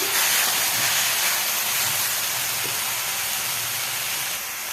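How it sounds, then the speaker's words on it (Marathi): Safflower leaves being sautéed with fresh coriander in a pan over low heat give a continuous broad sizzling hiss, steady and close, with no voices. "छान भाजीला घेऊयात परतून"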